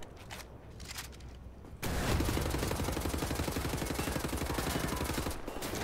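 Wolfenstein: The New Order gunfire, with scattered shots at first and then a sudden, loud, sustained automatic barrage of rapid close-range rounds hammering on without pause.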